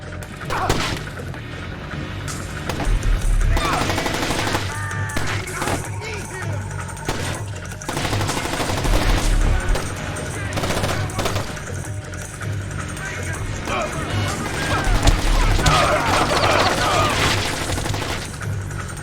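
Gunfire rattles through a stealth-action fight in Splinter Cell: Chaos Theory's Shinjuku bathhouse level in Japan: dense, loud bursts of shots and impacts that keep going over a steady game soundtrack, with voices shouting throughout.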